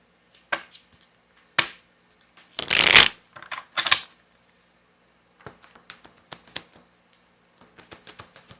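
A deck of tarot cards is shuffled during a reading, with scattered crisp riffles and snaps, one louder, longer riffling burst in the middle, then a quick run of light card flicks, close and with no speech.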